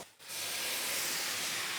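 Onions and mushrooms steam in a hot pan for a creamy mushroom tagliatelle, a sudden loud, broad hiss that starts after a brief quiet moment and holds steady, close by.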